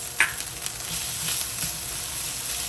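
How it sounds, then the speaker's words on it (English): Thai red curry paste with garlic paste fries in a pan for a Thai red chicken curry, giving a steady hiss of sizzling with a few faint scrapes and pops, close and alone with no talk. "Just like how you would fry any curry paste, you wanna fry this up."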